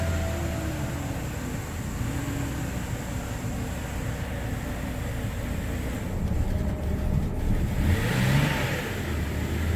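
A wrecked BMW E90 sedan engine held running by hand on the throttle pedal, a steady close mechanical drone with a brief rise in revs near the end, no talk.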